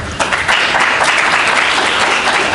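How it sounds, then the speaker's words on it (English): An audience at a talk on making and using geoportals applauds the presenters, with dense, steady clapping that fills the room at close range. "So I think a big round of applause for our presenters."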